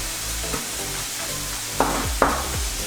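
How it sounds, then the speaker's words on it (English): Onions frying in a pan with garlic being added, a steady broadband sizzle with a few soft scrapes or stirring knocks, no talking. "As you can see, the onions are cooking."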